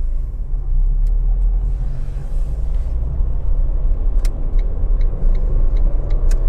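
A car's engine runs steadily during a road test drive on mixed roads, a loud continuous low rumble of motor and tyre noise with a few faint clicks.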